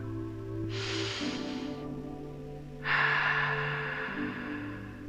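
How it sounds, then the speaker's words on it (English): Two slow, audible breaths, a long inhale through the nose followed by a longer exhale through the mouth, heard close and fairly soft over a faint steady hum, as in a calming belly-breathing exercise read aloud for kindergarten children. "breathe in slowly through our nose and breathe out slowly through our mouths"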